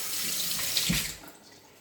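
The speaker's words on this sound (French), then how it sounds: "Je me lave les mains" Kitchen water tap running into a sink while hands are washed, a brief close splashing flow that trails off toward the end.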